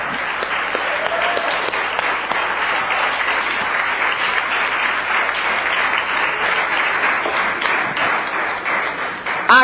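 A church congregation claps for God in sustained, loud applause, many hands together in a steady roar that holds evenly before ending with a sharp knock.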